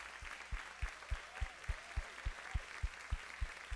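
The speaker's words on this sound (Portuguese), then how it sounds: "Aplauda esses homens." A church congregation claps for the fathers in a steady, rhythmic beat, each clap landing about every third of a second over a soft room wash.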